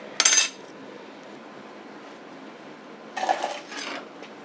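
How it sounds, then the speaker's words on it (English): Edges are nipped off a stainless steel part for a 4-inch Nissan Xterra snorkel, giving a sharp metallic clank at the start and a second pair of crisp metal clinks near the end, close by, with no talking. "I'm literally just nipping the edges off."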